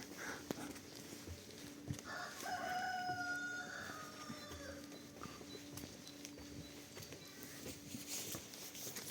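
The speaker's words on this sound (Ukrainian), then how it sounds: "Так, тут ще трошки курей." A rooster crows and chickens cluck nearby over a busy outdoor background in Truskavets, Ukraine, with occasional hoof-like clopping.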